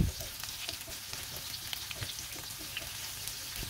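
Onion sizzles in hot oil in a pan while cooking japchae, a steady soft crackle and hiss with faint stirring, close and quiet, no voices.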